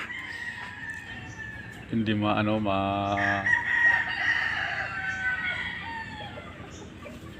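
A rooster crows once, loud and close, among chickens on a weedy, rain-soaked farm, with low clucking around it and someone talking over much of the scene.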